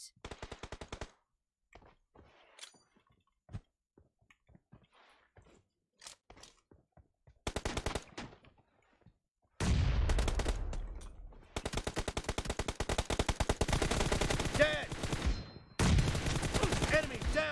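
Automatic rifle fire in a first-person shooter match, with an M4 assault rifle, loud rapid bursts and sustained volleys dominating the second half after sparse clicks and shots, with faint game voices beneath.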